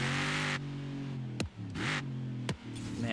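A 2017 Ford Raptor truck engine in the Forza Horizon racing game rumbles at a steady, loud idle, with two brief revving blips and dips partway through, heard alone without talk.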